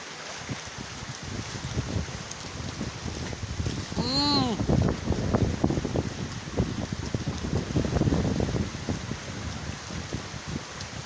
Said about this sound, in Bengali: কি ঢেউ!